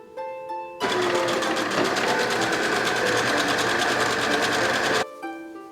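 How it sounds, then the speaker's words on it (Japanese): A sewing machine runs continuously, stitching the side seam of a folded cuff for a dress, a steady close whirring and rapid needle clatter that starts abruptly and stops cleanly after about four seconds. "カフスを中表に折って脇を縫おう"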